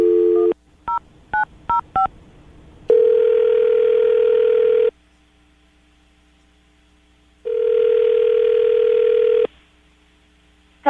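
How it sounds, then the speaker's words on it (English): A telephone call is placed: a few quick touch-tone dialing beeps, then two long ringback tones separated by silence, loud and close with no talking. "we're going to call her right now, see if we can get her on the phone"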